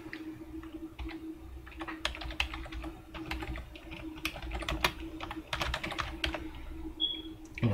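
Rapid, uneven clatter of keys on a computer keyboard, typed in short bursts as a subject line is entered into business software, heard close and clear over a low steady hum.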